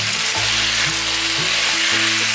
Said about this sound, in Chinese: 这时候放入豆角